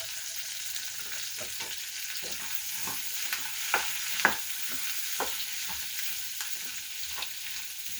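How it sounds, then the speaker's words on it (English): Salted and peppered asparagus frying in a pan gives a steady close sizzle with occasional soft clicks and stirring scrapes throughout, no voices. "just going to let this cook until it gets a nice bright green"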